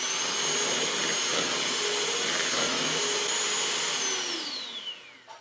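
An electric mixer beats passion fruit and strawberry mousse in a steady, loud motor whir that holds for most of the run, then winds down as the beaters slow and stop near the end.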